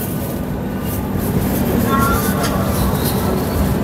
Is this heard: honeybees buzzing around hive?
no